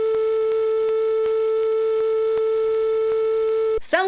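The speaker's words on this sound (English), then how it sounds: "that static screen with the rainbow bars and that beeping noise" A steady, unbroken test-pattern beep tone holds at one pitch for nearly four seconds, then cuts off abruptly into a short burst of noise.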